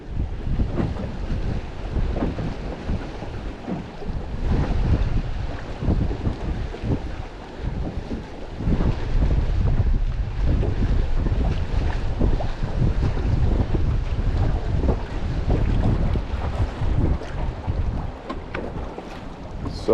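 Strong wind on a fishing boat on open water, a loud, continuous roaring buffet of gusts against the microphone, with waves washing and slapping underneath for the whole stretch and no talking.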